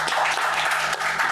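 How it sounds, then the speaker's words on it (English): A brief burst of audience applause at a hub launch event, dense steady clapping heard up close. "Let's give a round of applause."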